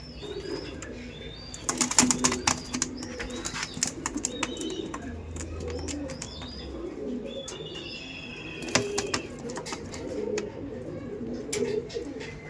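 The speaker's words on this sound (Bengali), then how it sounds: "দেখতে পাচ্ছেন পায়রাগুলো কত সুন্দর লাগছে ম্যাড্রাস পায়রা তাই তো" Madras pigeons in a loft give soft, low cooing with bursts of wing flapping and clattering, loudest around a couple of moments, over a background of chirps and light rustle.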